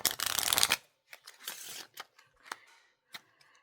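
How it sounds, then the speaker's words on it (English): A deck of playing cards riffle shuffled up close: a dense, loud ripple of cards falling together, then a series of softer taps, slides and clicks as the deck is squared and bridged, with no talking. "It is like a great way to shuffle the cards."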